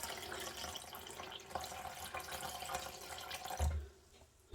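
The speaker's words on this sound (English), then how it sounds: "Now I'm going to add some water to it." Water poured into kadhi batter of gram flour for Punjabi kadhi pakoda, a steady trickling stream running for several seconds before stopping, with a brief knock at the very end.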